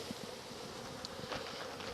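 Honeybees shaken from a brood frame into a box give off a soft, steady buzzing hum, close by and fairly quiet, with a few brief louder flares of individual bees.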